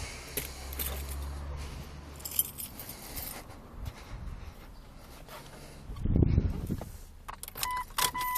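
Keys jangle in short metallic bursts inside a Jeep Cherokee, with small clicks and shuffling, and a louder jingling cluster near the end.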